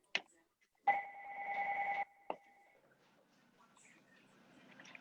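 A telephone rings once in a quiet council meeting room, a sustained ring lasting about a second followed by a short click, with faint room noise afterward.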